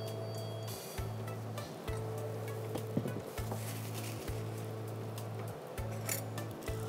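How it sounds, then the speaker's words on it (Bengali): Shish kebabs shallow fry in a little hot oil with a steady, close sizzle and crackle. Scraping and clinks from the pan come in now and then, and a low rhythmic hum runs underneath. "আমরা জাস্ট একটা করে কাবাব দিয়ে দিব। ওকে, গ্রেট। এতটুকু তেলেই হয়ে যাবে? হ্যাঁ। আচ্ছা, যে বললাম শ্যালো ফ্রাই করব।"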